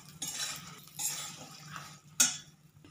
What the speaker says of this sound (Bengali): আবার ভালো করে নেড়ে চেড়ে ভেজে নিতে হবে